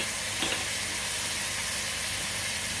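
Garlic sizzling in a hot pan with beef tips, a steady bright hiss of frying with a brief flare near the start, close and continuous with no talk.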